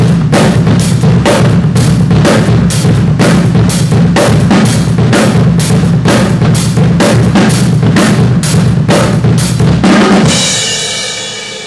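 Drum kit foot pattern of triplets played as 16th notes, a fast, steady stream of loud bass drum strokes under continuous cymbal wash, ending abruptly after about ten seconds and leaving a short ringing tail.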